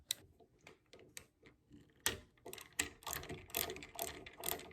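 A screwdriver loosens the screws on a brush saddle of a K-9 III Force Dryer, with small clicks, ticks and ratchet-like scrapes in a rough, uneven rhythm, close and fairly quiet.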